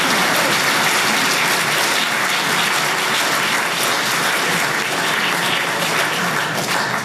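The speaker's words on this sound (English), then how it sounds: "So a big round of applause." A church congregation applauds its volunteers at a Flower Communion service, a loud, dense wash of clapping that holds steady for about seven seconds with no voices over it.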